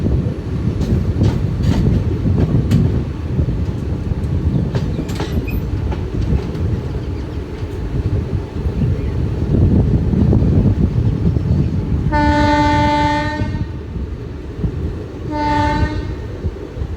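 A passenger train runs on rails between Jamjodhpur and Rajkot Junction in western India, with a loud, continuous rumble and clatter of wheels, then two long horn blasts near the end.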